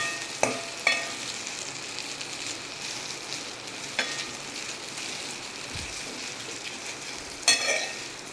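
Green chilies and cumin seeds fry gently in oil in a pan over low heat, giving a steady soft sizzle broken by a few sharp clicks of a utensil stirring, with no voices.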